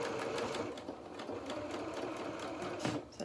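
A sewing machine stitching a felt doll coat runs steadily and close, with a continuous fast mechanical whir and rapid needle clatter throughout.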